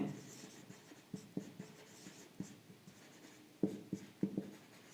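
Writing on a board during a Class 12 physics lecture on current electricity and drift velocity: a run of close, soft scratchy strokes and sharp taps, faster in bursts toward the end, with no voice.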